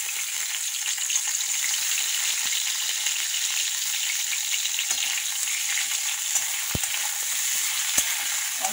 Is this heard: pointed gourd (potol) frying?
yes